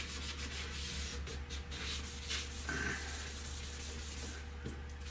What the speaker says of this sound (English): 600 grit is good for sanding for base paint.